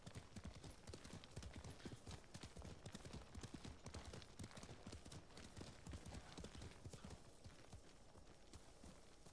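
Rapid clip-clop of horse hooves at a steady gallop in the video game Ghost of Tsushima, continuous rhythmic clattering with a brief whinny.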